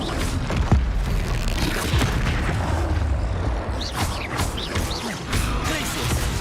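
Spell effects burst in a Harry Potter wizard-duel game, with dense booms and crashing magical impacts rumbling continuously and some whooshing sweeps near the end.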